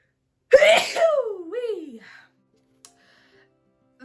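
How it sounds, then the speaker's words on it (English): One loud sneeze bursts out close to the listener, trailing into a breathy exhale, then quiet with a faint click. "Oh, dust. Gotta sneeze."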